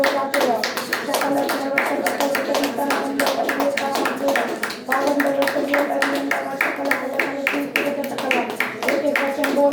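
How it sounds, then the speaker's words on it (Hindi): A church congregation claps hands in thanksgiving in a rapid, rhythmic, sustained beat, close and loud, with voices and music carrying beneath the clapping throughout. "शकल ताकत लगा के ताली बजाते रहो।"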